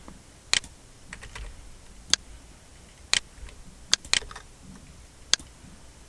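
Keystrokes on a computer keyboard, sparse and irregular: a handful of sharp, close clicks spread out with quiet pauses between them, over low room hush, with no talking.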